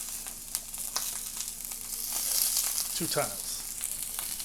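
Garlic sizzling undisturbed in a hot pan for salsa, a steady close crackle that grows louder midway, with someone talking briefly over it.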